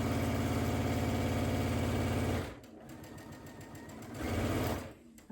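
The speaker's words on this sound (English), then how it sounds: "when I get to sewing these, I'm just going to chain piece all one side" A sewing machine chain-piecing quilt fabric: a fast, steady mechanical hum of stitching, close and loud, that slows and drops away midway, then surges back briefly before stopping, with no talking.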